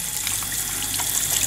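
Tap water running steadily over iceberg lettuce during rinsing, a continuous close splashing hiss with small irregular patters as the leaves are handled.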